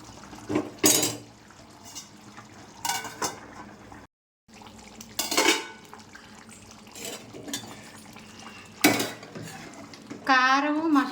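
A metal lid goes onto a pot of simmering chicken curry, with several sharp clanks and scrapes of cookware spread through the stretch and a brief rising squeal near the end.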